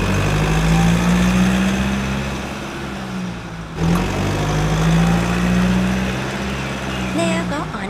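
Truck engine running steadily at close range, a continuous low rumble that dips briefly midway before resuming, with faint higher whines near the end.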